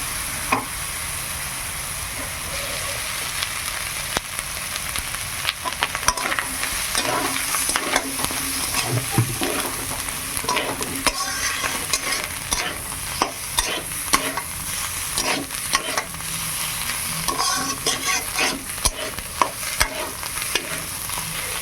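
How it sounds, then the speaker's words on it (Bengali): Fish roe fries in a pan with boiled hog plum for a chutney, giving a steady close sizzle broken by repeated scraping stirs throughout. "কিছুক্ষণ ভালো করে নেড়ে ভেজে নেই"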